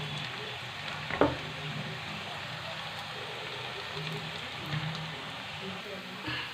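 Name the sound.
onion and cumin frying in a pan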